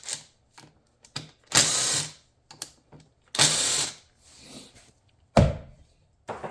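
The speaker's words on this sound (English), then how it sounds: "next let's get that power valve cover off." Hand tools work loose the power valve side cover on a Yamaha YZ250 two-stroke dirt bike, giving a string of close mechanical clicks and scrapes with several louder bursts of ratcheting, no talking.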